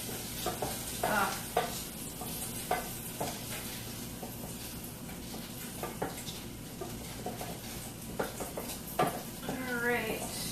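Garlic sizzles steadily in a hot pan for a burrito filling, with repeated scraping stir strokes and clattering cookware up close, plus a few brief vocal sounds.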